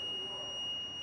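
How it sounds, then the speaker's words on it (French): A hotel room door alarm, triggered when the door stays open too long, sounds as a steady, loud high-pitched electronic tone held without a break. "C'est une alarme quand la porte reste trop longtemps ouverte"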